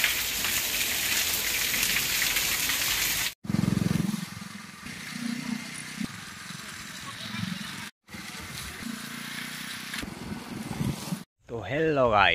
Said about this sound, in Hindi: पूरा जोरदार से बारिश हो रहा है आज बलांगीर में।